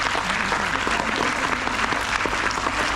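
Steady, dense applause fills a poetry recitation hall at a Hindi kavi sammelan, loud and close throughout, with a faint murmur of voices underneath.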